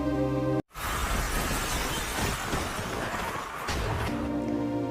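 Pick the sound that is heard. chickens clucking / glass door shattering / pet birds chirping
glass door shattering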